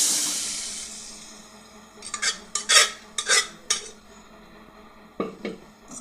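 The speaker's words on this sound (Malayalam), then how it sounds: "നന്നായിട്ട് മിക്സ് ചെയ്യും" Spoon stirring a dal curry mixture with green chillies in a metal pan, a series of sharp scraping clinks in bursts after a quiet start, then a final pair of knocks, with no talking.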